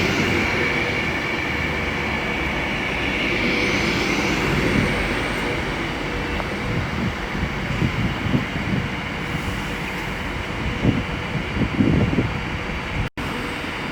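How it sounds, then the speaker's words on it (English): An Avanti West Coast Class 390 electric train departs Milton Keynes Central on the West Coast Main Line, a steady loud rumble and wheel clatter building as carriages roll past, with rhythmic joint clicks and no voices. "Now departing is the 1404 Avanti West Coast service from Edinburgh Waverley to London Euston."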